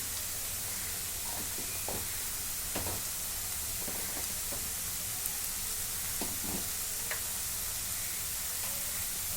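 Ginger paste and masala with turmeric fry in a pan for an egg dish, giving a steady soft sizzle broken by scattered light scraping and stirring clicks, fairly close and with no talking.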